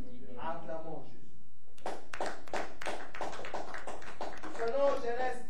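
A church congregation bursts into rhythmic clapping in praise of Jesus, a steady run of sharp claps that follows a brief spoken line and sits fairly loud and close.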